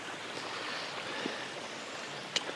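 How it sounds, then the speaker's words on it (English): Flint Creek runs beside a backpacking trail on Snakeden Ridge in Tennessee, giving a steady, soft wash of flowing water with a brief sharper splash near the end, no voices. "we'll have the creek running beside us again now"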